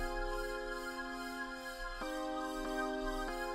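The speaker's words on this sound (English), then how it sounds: "the synth that I added afterwards followed the same chord progressions of the keys" Sustained synth chords in a trap beat, holding steady harmonic layers that shift with each chord change at regular intervals, moderately quiet and alone without any voice.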